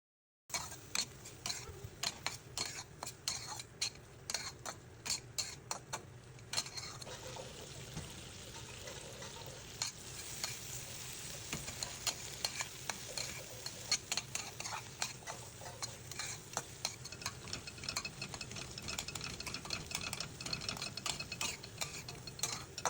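Dried hilsa fish fried in a pan and stirred now and then, with a soft steady sizzle beneath a long series of close, rhythmic scraping and ticking spoon strokes against the pan, no voices present.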